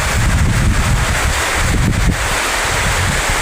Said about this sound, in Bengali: দেখেন ঝড় বৃষ্টি উভয়ে মিশ্রিত হচ্ছে, প্রচুর বাতাস হচ্ছে এবং গাছপালা ভেঙে পড়ছে